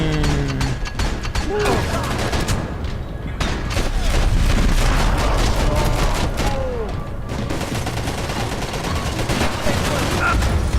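Bursts of LMG gunfire and booms from the video game Max Payne 3 come in rapid, repeated volleys, mixed with game effects, as someone talks over the shooting.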